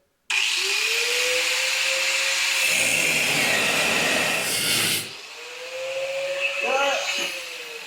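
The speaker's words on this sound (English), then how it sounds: "Our Harbor Freight grinder, the switch that turns it on and off, has gave up on life." A Harbor Freight grinder with a failed on-off switch spins up, whines loudly, and grinds with a harsh, hissing rasp for a few seconds. It winds down, then spins up again, close by and with no talk over it.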